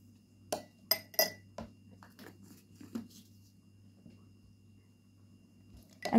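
A spoon stirs instant coffee into a mix of honey and cornstarch, giving several quick clinks against a glass or bowl followed by quieter scraping.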